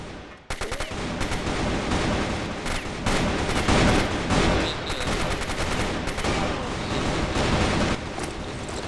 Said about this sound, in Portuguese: Acho que vou dar um HS de sniper aqui.